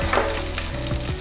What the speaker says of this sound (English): just let the onions and garlics fry for a few minutes in some olive oil